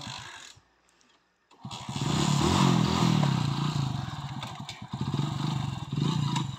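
A motorcycle ridden on a village road: a brief quiet spell, then the engine roars up loud and close, throbbing and revving unevenly with a rough mechanical rattle.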